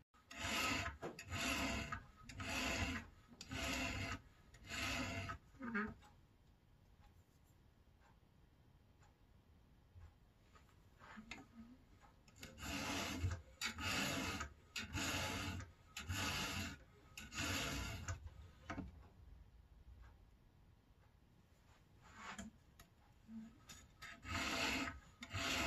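Hand file reprofiling the tip of a knife blade, close rhythmic rasping strokes in quick bursts, separated by quiet pauses before another run of strokes.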